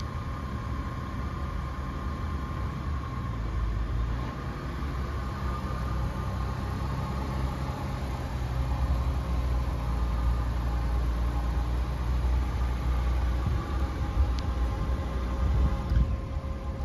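A 2024 Genesis GV80 creeping forward under remote Smart Park Assist outdoors, giving a steady low engine and tire rumble with constant broadband noise, moderately loud and unbroken, with no one talking.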